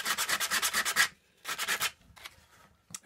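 Hand sanding wood with coarse P60 sandpaper: quick rhythmic scratchy rubbing strokes, a burst of about nine, a pause, then about four more, with a faint scrape at the end, close and alone.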